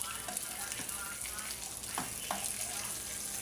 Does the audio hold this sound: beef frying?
yes